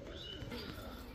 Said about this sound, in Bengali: দেখেন আমি এই কালারের কবুতর কিন্তু এখন পর্যন্ত দেখিনি, রেসার কবুতর।